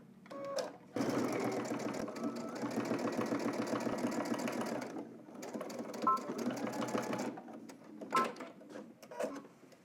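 A sewing machine understitches past the seam on a pair of baggy jeans, running in a steady loud whir for about four seconds, then in shorter bursts separated by brief pauses and clicks.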